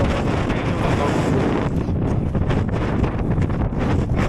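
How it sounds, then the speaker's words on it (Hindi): Strong wind on a high Himalayan trek toward Gomukh and Tapovan buffets the microphone, a loud, constant roaring rumble with gusty surges that never lets up. "बहुत तेज़ हवा है, बहुत तेज़।"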